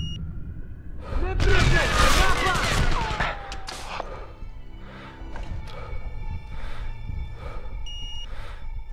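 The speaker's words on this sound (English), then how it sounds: "Open fire!" Gunfire in the video game Sniper Ghost Warrior 2, a loud burst of shots early on followed by scattered single reports and electronic beeps, with voices talking.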